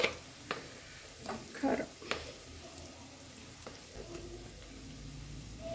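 Onion with turmeric, chilli and masala powder frying in a pan: a soft sizzle with scattered stirring scrapes and taps, mostly near the start, fairly quiet overall.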